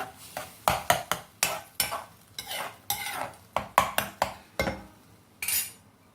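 A spoon stirs coriander powder, red chilli powder and turmeric as they roast in a pan for a Sindhi seyal phulka gravy, giving a brisk run of close scraping strokes and metallic clinks with no talk.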